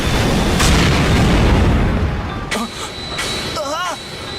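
A fiery anime fireball spell erupts with a deep, rumbling blast that rolls on for a couple of seconds, followed by whooshing magical effects and a rising warbling tone; a voice speaks over part of it.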